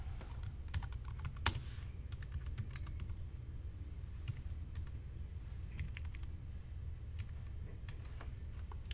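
Soft, close clicks of a computer keyboard as text is entered into storefront estimating software, irregular bursts of keystrokes with short pauses over a low steady hum.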